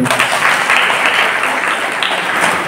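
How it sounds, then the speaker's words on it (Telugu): A parish congregation at a priest's silver jubilee celebration in Kamalapuram claps together, a loud, dense, unbroken patter of many hands close by that carries on steadily without speech. "రెండవసారి చప్పట్లు కొట్టండి"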